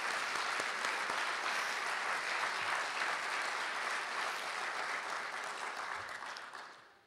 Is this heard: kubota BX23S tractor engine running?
no